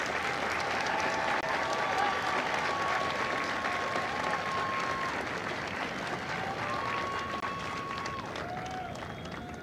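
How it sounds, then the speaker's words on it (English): An audience applauds the company staff at a Marine recruit graduation ceremony at MCRD San Diego. The steady, dense clapping rolls on throughout and tapers slightly near the end, with faint tonal sounds mixed in. "please join me in a round of applause for the company staff of Company A"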